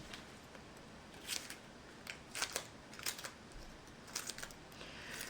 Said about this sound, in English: Just don't want to make it too hard for the scissors to cut through